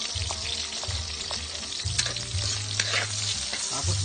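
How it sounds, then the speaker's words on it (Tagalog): Potatoes and onions frying in a pan for adobo, a steady crackling sizzle with repeated scraping stir strokes close by, no talking. "unahin natin pipirito yung mga patatas para mag-brown"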